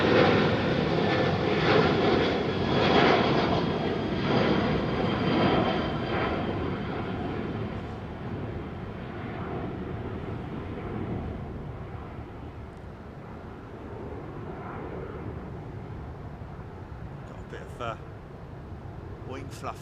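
Airliner jet climbing away after takeoff from runway 27R at London Heathrow, a broad, loud engine roar that slowly fades as it gains height, with someone talking over it.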